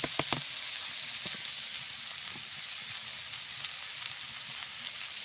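Spinach leaves sizzle and crackle steadily as they fry in a hot pan, a bright, continuous hiss with a few louder pops and scraping stirs near the start.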